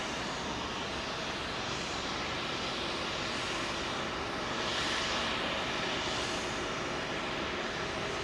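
Boeing jet airliner engines at Heathrow runway 27L make a steady broadband roar that swells slightly midway, distant yet filling the scene, with no voices.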